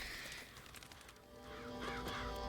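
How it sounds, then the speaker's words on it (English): Crows caw in the video game BioShock Infinite, several harsh calls rising over a dense game soundscape, moderately close but not loud. "those are some pretty fucking effective crows"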